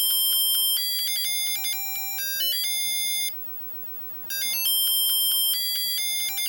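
An Epoch Game Pocket Computer switched on with no cartridge plays its start-up tune, a loud run of bright, steady electronic beeps that step through pitches. The tune stops for about a second midway, then resumes, with no talk.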